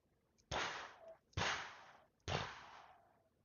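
A voice imitates fireworks going off with three sharp, breathy bursts, each a hissing pop that trails away, evenly spaced and close to the microphone.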